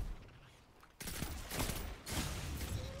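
Bursts of rapid gunfire erupt in a Destiny Trials match, starting suddenly after a quiet stretch and continuing as loud overlapping volleys with sharp cracks, no talk over them.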